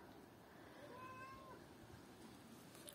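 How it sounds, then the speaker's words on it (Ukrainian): A faint cat meow sounds once, drawn out and slightly wavering, over quiet outdoor background noise. "Кіт, як завжди, у нас тут"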